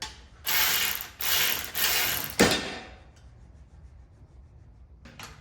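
A ratchet wrench tightening a bolt on a Vevor 5-ton air jack during assembly: three loud rapid clicking strokes in a row, a scrape, then quiet with a brief click near the end, close and with no speech.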